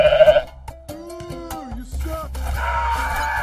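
A goat in the video game Goat Simulator bleats with loud, wavering, drawn-out cries over a background of game noise.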